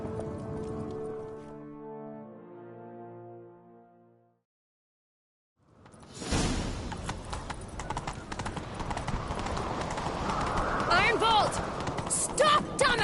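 A horse gallops in The Witcher 3 video game, its hoofbeats building after a musical cue and a pause, a steady clip-clop rhythm running loud under in-game voices and effects.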